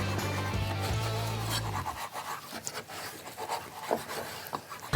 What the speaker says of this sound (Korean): 고기를 이제 좀 썰 건데